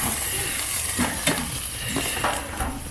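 Pork sizzling and frying in a pan, a steady close sizzle with occasional stirring scrapes and clinks of utensils.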